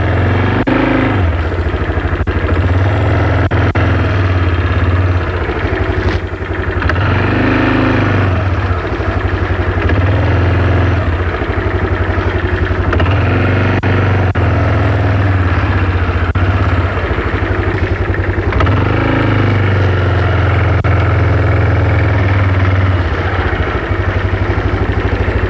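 A quad ATV engine idles steadily and close, a loud continuous low rumble with slight periodic swells in pitch, no voices over it.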